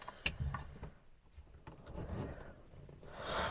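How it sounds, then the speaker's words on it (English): A single sharp click from the fuel pump of an old Morris car, left ten years in a barn, on a chilly morning, heard early and fairly faint over quiet background noise. "I heard the pump click."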